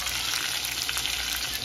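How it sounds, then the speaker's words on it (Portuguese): Food sizzling steadily as it fries in a pan in a rural home kitchen, a continuous close crackle with no talking over it. "Tô aqui fritando mais."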